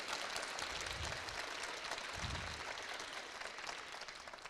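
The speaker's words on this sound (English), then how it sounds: "let's give a hand of big applause to them" A crowd at a hackathon award ceremony gives steady, fairly faint applause that continues throughout and fades slightly toward the end.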